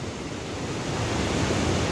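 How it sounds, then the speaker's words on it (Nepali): A village waterfall at Kulekhani roars as a steady, dense rush of falling water, close and fairly loud, filling the whole clip without any voices. "मेरो गाउँको झर्ना चाहिँ यही है"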